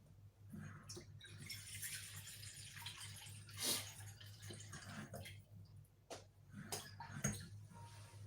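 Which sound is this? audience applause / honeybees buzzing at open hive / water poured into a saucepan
water poured into a saucepan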